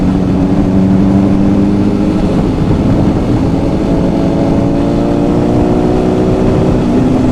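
Motorcycle engine revving up through the gears, a loud, close, continuous drone whose tone climbs gradually as it accelerates, with wind noise and no speech.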